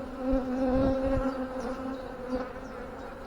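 A steady, close drone of honeybees fills the air as a hive is opened and inspected, with occasional soft handling thumps beneath the continuous buzzing.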